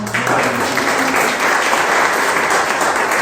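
A church congregation applauds during a sermon. The clapping is loud, dense and sustained, with a brief low murmur of voices at the start before the applause takes over.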